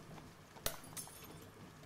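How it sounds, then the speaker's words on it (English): A single sharp glass break rings out, a bright crack followed by a faint second clink and tinkling tail, against a quiet room background. "The second glass broken."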